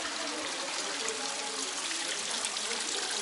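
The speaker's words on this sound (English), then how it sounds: "bit of a cool waterfall." Steady, broadband rush of falling water from a small indoor waterfall in a Chinese garden display at a Saint Petersburg botanical garden, continuous and moderately close with no pauses.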